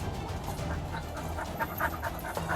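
A dog pants rapidly and steadily up close, with quick rhythmic breaths and a faint whimper, no talk over it.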